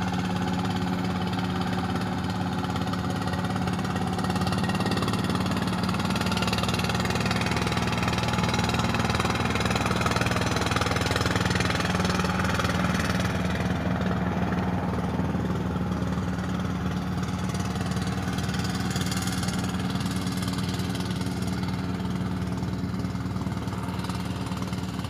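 A boat engine labours against a sea current, a loud, steady, close motor drone that runs unbroken for the whole stretch with no voices over it.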